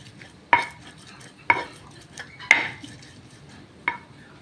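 Fresh turmeric being pounded by hand in a stone mortar, four distinct sharp knocks spaced about a second apart, close and fairly loud over a low background hum.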